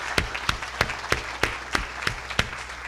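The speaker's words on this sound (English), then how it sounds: "Let's give them a round of applause." An audience at a university commencement ceremony claps for graduates' loved ones, a steady round of applause with sharp, evenly spaced loud claps standing out over the crowd.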